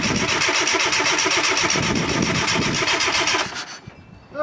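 A Fiat Panda 4x4 with injectors not firing cranks and catches into a loud, chugging rhythmic run for about three and a half seconds, then abruptly cuts out into near silence.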